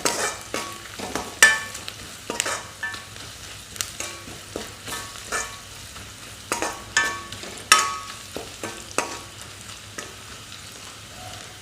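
Cumin powder and home-ground dried chilli fry in a pan for an Assamese banana stem fry. A spoon stirs them in irregular clicks and scrapes over a quiet, steady sizzle, fairly close, with no voices.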